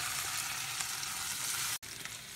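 Onions fry in a pan with a splash of sour wine, a loud, dense, continuous sizzle close up that drops out abruptly for an instant before resuming just as strong.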